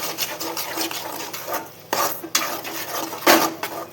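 Sugar stirred into a pan with a spoon while making sweet shakariya (sweet potato) sheero, giving repeated scraping and clinking of metal against the pan, with a few louder scrapes near the end and no talking.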